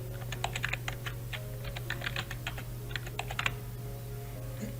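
Rapid bursts of computer keyboard typing as a username is entered, clustered clicks with short pauses, moderately close over a steady background hum.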